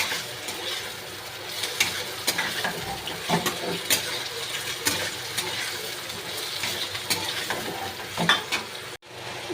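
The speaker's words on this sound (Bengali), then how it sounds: "এবার আমি লিভারগুলো দিয়ে দেব, একটু ভেজে নেব ভালো করে।" Chicken livers fry in a pan with a continuous soft sizzle, broken by repeated sharp scrapes and taps as a utensil stirs them.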